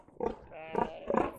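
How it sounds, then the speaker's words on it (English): A pig on a farm, locked in its pen by a mud wallow, gives a few grunting, squealing calls in short bursts, close and moderately loud. "What are you doing, pig?"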